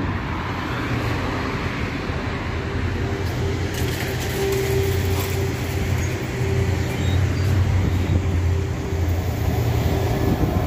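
Traffic rumble of a bus pulling into a station stop, steady low engine drone with a faint whine and passing-vehicle wash at moderate distance, no talk.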